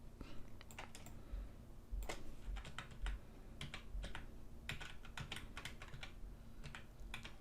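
Keyboard keys on a computer are pressed in a Photoshop session, including the Alt key, giving a steady series of close, crisp clicks with a low background hum and no talking.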